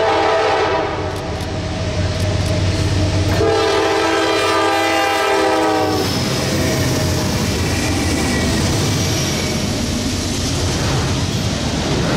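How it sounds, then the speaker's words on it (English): Westbound intermodal freight train passing Busthead Road in Broad Run, Virginia, loud and close, with a long blast of the horn over the rumble and clatter of rolling cars. "just in time to catch westbound intermodal train 214"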